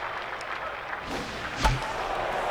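Steady roar of a stadium crowd in the baseball video game Super Mega Baseball 2, a continuous wash of cheering with a brief thump rising out of it midway, moderately loud with no talk.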